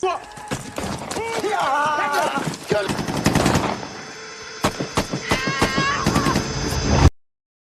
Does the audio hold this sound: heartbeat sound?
no